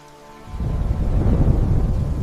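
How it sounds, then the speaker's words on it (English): Thunder swells from near quiet into a deep, rolling rumble that builds within half a second and stays heavy and sustained to the end, with no voices. "Thunder rolls along the horizon."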